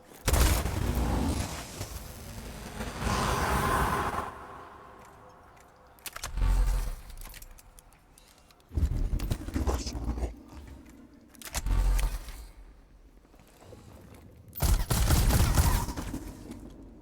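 Weapon fire in the strategy game Warhammer 40K Mechanicus comes as repeated bursts of loud crackling shots and booming impacts, each lasting a second or two, separated by quieter gaps of low rumble, with no talk heard.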